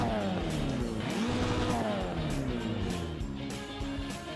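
Bark pickup truck, a 160 brake horsepower, 900 kg UK racing pickup in a car mod video game, racing with a steady engine drone that rises and falls in pitch through gear changes, with tire noise and other cars nearby.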